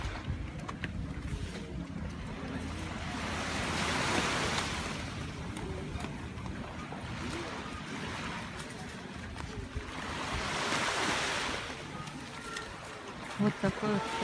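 Surf washes onto a long beach on Koh Chang island, swelling and easing in slow broad surges under steady wind noise, with a few brief bumps near the end.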